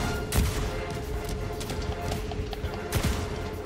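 Gunfire rattles through a Helldivers 2 battle on a cold planet, a dense mid-distance barrage with two sharper bursts standing out against a continuous roar of combat.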